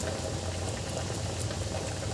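Fresh pigeon pea (tur dal) vade deep-fry in hot oil over a medium gas flame, giving a steady, dense crackling sizzle with constant bubbling, close up and uninterrupted.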